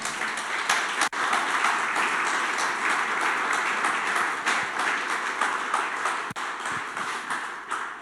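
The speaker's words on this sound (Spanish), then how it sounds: "Dale un aplauso al Señor." Continuous clapping from a church congregation applauding the Lord, a crackling, close wash of many hands sustained for several seconds with a few sharp isolated claps standing out.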